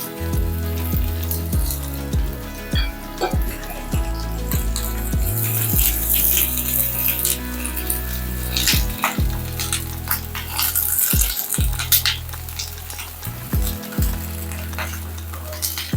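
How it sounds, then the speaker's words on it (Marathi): Thin slices of eggplant fry in oil with a steady, close sizzle, punctuated by repeated knocks and scrapes as a utensil stirs them in the pan; no one speaks. "तेलामध्ये जरा परतून घेऊया ही वांगी"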